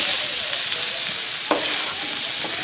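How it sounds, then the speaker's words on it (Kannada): Oil sizzling steadily in a pan while a dish is fried for a home festival meal, a continuous hiss with faint stirring clicks and one brief clatter, no talking. "ಎಣ್ಣೆ ಹಾಕಿ ಫ್ರೈ ಮಾಡಬೇಕು"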